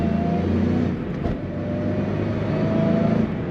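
A supercharged 2003 Ford Mustang Cobra Terminator drives past, its engine droning steadily with a high supercharger whine riding on top, loud and close throughout with a brief dip partway.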